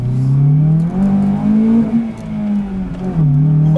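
Modified Acura RSX with headers and a cam, its engine revving loud and close from inside the cabin while cornering, pitch rising and dipping as the revs change.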